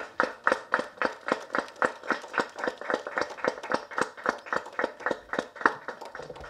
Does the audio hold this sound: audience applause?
yes